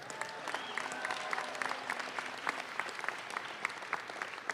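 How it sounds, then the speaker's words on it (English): Audience applause breaks out at the 2025 NFL Draft handoff event, a steady wash of many hands clapping at moderate distance with a few sharper claps poking through, sustained throughout. "How about a round of applause for all of them?"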